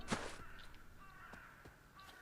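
Crows caw in Hello Neighbor 2, a faint caw and a few distant cries over quiet game ambience, with a soft whoosh and some light clicks.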